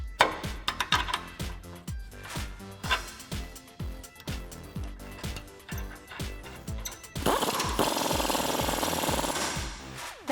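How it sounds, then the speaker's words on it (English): An 18mm wrench and socket tighten a bolt on a Jeep Wrangler JK suspension during a Teraflex lift install, giving a steady run of rapid ratcheting clicks, then a denser whirring stretch near the end, close up with no talk. "We're going to grab our 18mm wrench and 18mm socket and tighten that down."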